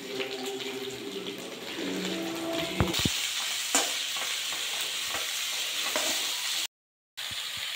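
Crushed ginger, garlic, cinnamon, cloves and cardamom sautéing for chicken biryani masala, with a loud stir and scrape early on, then a steady close sizzle with occasional spoon clinks and no voices.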